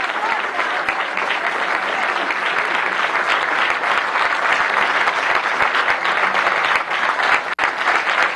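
Sustained applause from a large audience at a national journalism award ceremony, dense and steady throughout, with no voices standing out.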